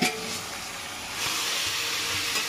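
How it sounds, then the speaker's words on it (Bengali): Marinated chicken frying with onions gives a steady broadband hiss and sizzle that swells slightly partway through, with faint low clatter underneath and no voices. "এবার ম্যারিনেশন করা চিকেনটা পেঁয়াজের সাথে ভাজা হবে"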